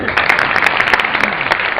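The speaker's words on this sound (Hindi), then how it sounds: "ताली बजाओ उनको" An audience at a Shivratri festival gathering in Sibi claps for a child, a loud, close burst of brisk, dense applause that carries through the whole moment.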